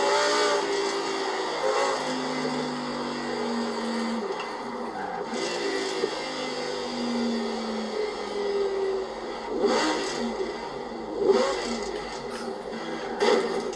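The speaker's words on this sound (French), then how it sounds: "Ça accélère hyper fort jusqu'à 9000 tours minutes." A V10 car engine in the Forza Horizon 4 racing game, revving up hard toward 9000 rpm, its rising whine climbing in pitch over several gear pulls at moderate loudness, with no talk.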